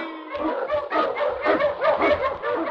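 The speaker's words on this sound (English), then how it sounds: "The Wonder Dog King, swiftest and strongest of Eskimo lead dogs, blazes the trail through storm and snow" A sled dog barks and yelps repeatedly in an old radio drama set in the snowy Yukon, with rapid, excited, close-sounding barks running throughout.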